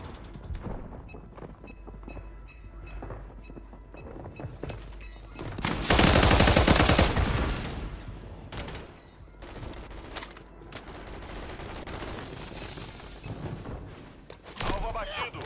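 Rapid gunfire from a weapon in a video game, with dense bursts and a loud, sustained volley in the middle, heard under someone talking.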